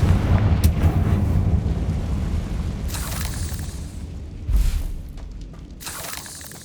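Confringo fire spell blasts in the Hogwarts Legacy game: several booming explosions with rumbling low-end tails, spaced a second or two apart, over a steady background rumble.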